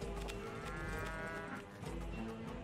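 Cows moo in the video game Rock of Ages 3, a drawn-out lowing call mixed into a dense, loud game soundtrack and effects that run throughout.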